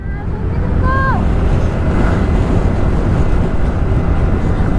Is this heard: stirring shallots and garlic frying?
no